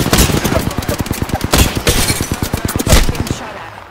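Rapid automatic gunfire in the Apex Legends battle royale game, a loud, dense burst of evenly spaced shots running almost continuously before cutting off at the end.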